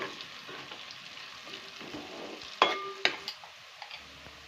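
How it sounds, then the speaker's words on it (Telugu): Half a teaspoon of turmeric frying in hot oil with onions for cluster bean curry, a steady soft sizzle with a few sharp clinks of a spoon against the pan near the end. "ఈ పసుపుని పచ్చివాసన పోయే వరకు వేయించుకోండి."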